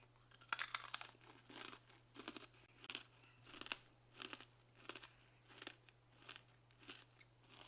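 Crunchy MRE food from a Mexican rice and beans bowl ration is chewed up close in slow, regular crunching bites. The sound is quiet, with a low steady hum underneath and no talking.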